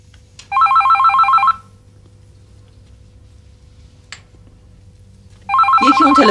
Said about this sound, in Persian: یکی اون تلفن رو جواب بده، مردم با آدم کار دارن.